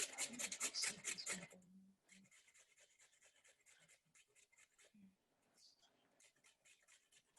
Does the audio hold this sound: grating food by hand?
yes